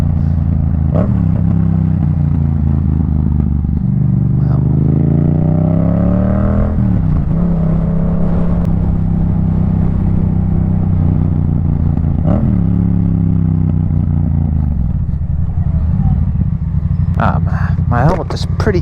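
A motorcycle cruises on a highway while the rider downshifts. Loud, close engine drone rises and falls in pitch through the gear changes, under constant wind roar.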